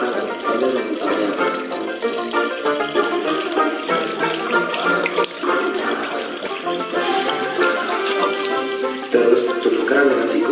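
A water tap runs steadily during handwashing, a continuous splashing rush close by, with faint voices in the background.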